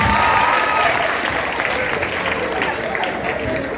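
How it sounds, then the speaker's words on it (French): A church congregation applauds during a sermon, a steady wash of many hands clapping at once for a few seconds, loud and sustained with faint voices underneath. "Donc applaudissez-vous"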